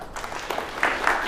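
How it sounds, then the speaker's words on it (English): A conference audience claps for a speaker, a short burst of applause that swells toward the end, fairly close and continuous, with no talking over it. "Give Dan a round of applause."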